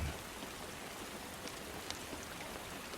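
Steady, soft rain hisses evenly throughout, faint and continuous with no other sounds standing out.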